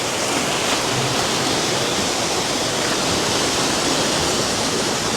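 Cold water pours and rushes steadily, a dense, unbroken splashing roar close by with no pauses.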